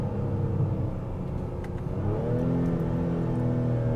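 A 2025 Honda Pilot Elite's engine revs hard under acceleration after a paddle-shift downshift to third gear, a steady loud drone whose pitch sweeps upward with no talking.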